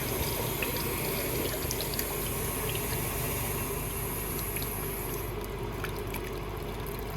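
Water is forced under pressure through a Kia Sportage cooling system and heater core contaminated with oil, a steady loud rushing gush that runs continuously with no talking.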